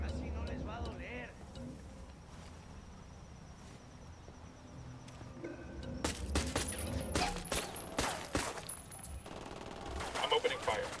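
Rapid automatic gunfire from the video game Ghost Recon Wildlands erupts after a few quiet seconds of ambient background and continues as dense, loud bursts with sharp cracks.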